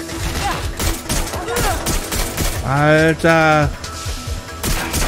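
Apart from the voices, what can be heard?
gunfire in the video game Watch Dogs: Legion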